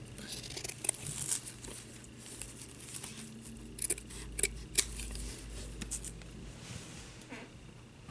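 Scissors cut out felt leaves for a handmade flower tag, with a series of soft, close snips and a few sharper clicks over faint rustling, quiet and without speech.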